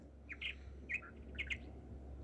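A cartoon effect of small birds in a tree gives a few bright, quick chirps in two or three short bursts over a low, steady background hum, with no voices.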